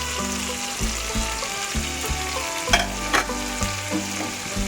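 Ground mustard paste goes into frying tomato and is stirred in a pan, producing a continuous close sizzle with a few sharp scraping and clinking stirs against the pan, no voices.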